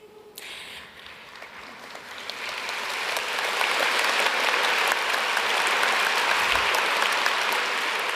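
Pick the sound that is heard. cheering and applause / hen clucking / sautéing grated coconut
cheering and applause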